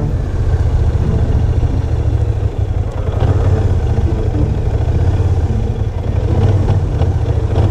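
A Kymco AK550 big-displacement maxi-scooter being ridden at Camp John Hay, Baguio City, its engine a loud, steady low drone mixed with wind rush throughout.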